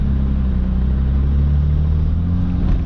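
An old, rusty Nissan Maxima with failed brakes rolls along with a loud, close, steady low engine rumble and road drone throughout, no speech over it.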